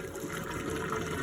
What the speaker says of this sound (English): strain that hot water, hot boiling water, so that all you have is your eggs left